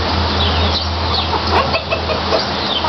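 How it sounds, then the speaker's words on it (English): Roosters at a zoo give loud, close clucking and crowing calls over a constant low hum, with no talking. "That's the rooster making that noise"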